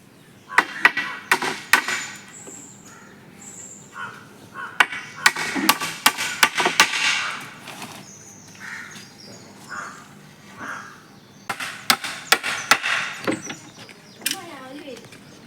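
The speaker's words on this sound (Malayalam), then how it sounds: "ഇനി ഫ്രണ്ടത്തെ നീളത്തിലുള്ള കഷ്ണം അടിക്കുക കേട്ടോ" Nails are hammered into the long front wooden piece of a chicken coop made from wood and net, in clustered bursts of sharp, close knocks with pauses between, and a voice occasionally heard in the gaps.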